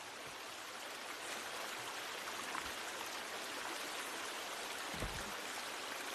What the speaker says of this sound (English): Gonna get a little waterfall action.